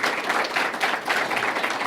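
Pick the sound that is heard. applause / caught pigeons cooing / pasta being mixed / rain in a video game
applause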